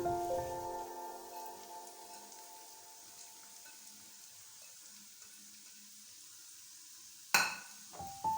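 Chopped onions hit a hot pan for keema and sizzle with a steady frying hiss that slowly settles, then a sharp clatter of stirring near the end.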